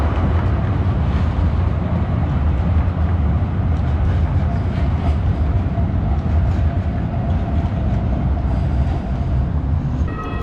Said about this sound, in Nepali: यहाँको यो ट्रेन चढेर चाहिँ मलाई पनि हिँड्ने मन थियो